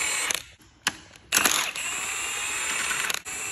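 Engine stand rotating a Mercedes CLS63 AMG engine during a strip-down, a few sharp mechanical clicks and ratcheting bursts over a steady workshop hiss, close and moderately loud.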